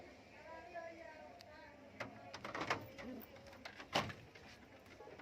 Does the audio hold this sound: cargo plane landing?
no